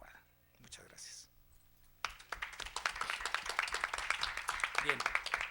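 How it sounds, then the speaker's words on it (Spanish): An academic lecture audience bursts into steady applause after a speaker finishes, dense rapid clapping rising from near silence and continuing, with a brief faint voice before it starts. "muchas gracias por el aplauso"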